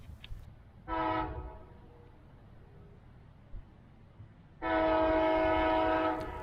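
A Brightline qualification train sounds its horn twice while passing at Suntree, Florida: a short blast, then a longer sustained one, over a low rumble of rails.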